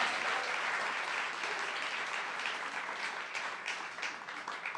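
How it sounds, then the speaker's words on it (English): Sustained applause from a festival audience greeting a casting panel at a film festival, a dense, steady wash of many hands clapping that holds at an even level throughout with no voices. "Please give them a round of applause."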